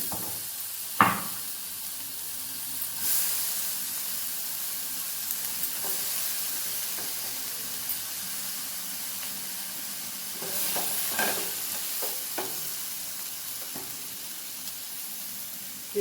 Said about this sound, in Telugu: టమాటాలు ఫ్రై చేసుకుని కొంచెం చింతపండు వేసుకున్నాను